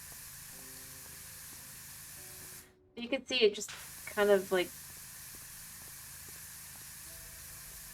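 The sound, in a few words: power washer spraying soap in PowerWash Simulator video game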